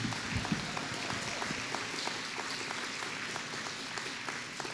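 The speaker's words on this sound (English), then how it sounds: "Please give them a round of applause." Steady applause from a community meeting audience, sustained clapping that holds at an even level throughout, with a few louder claps near the start.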